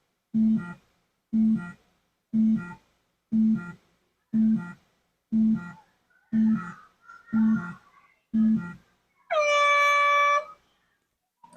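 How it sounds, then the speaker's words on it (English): A clock's countdown of the final seconds: nine short, evenly spaced electronic beeps about once per second, followed by a longer, higher, louder tone to finish. "it will give you a countdown for those final 10 seconds"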